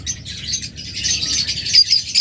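Many small birds chirp and tweet together inside a commercial bird farm, a busy, continuous chorus of high calls with a few sharper squeaks near the end, no voices.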